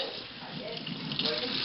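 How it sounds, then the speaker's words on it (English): Water pours steadily into a mixing bowl while dough is being made, a continuous close rushing splash that holds at an even level and swells slightly toward the end. "I'm putting more water in the pot, in the bowl"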